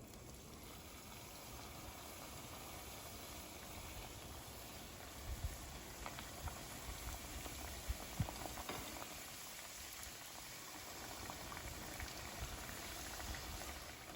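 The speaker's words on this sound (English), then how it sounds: "What we're looking for with this is for them to be golden brown, and so it'll take approximately 2 to 3 minutes to fry up." Sambusas deep fry in hot oil, with a steady, faint, dense bubbling hiss that runs on and on and holds a few small pops.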